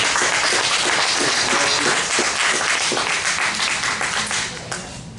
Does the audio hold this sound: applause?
yes